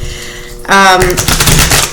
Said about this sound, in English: I'm just going to go ahead and shuffle the cards and get right into it.